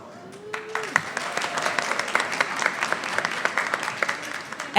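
Audience applause for speakers at a research summit, a dense, steady wash of many hands clapping in a hall, fairly loud and continuous throughout.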